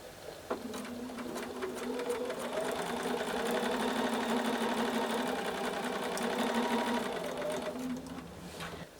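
A sewing machine stitches a quilt block in one steady, continuous run, starting with a soft thunk and holding an even mechanical whir close by for about eight seconds before stopping.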